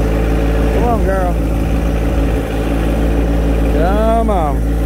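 A tractor engine idles close by with a steady, even low rumble that never changes pace, while a person talks briefly over it twice.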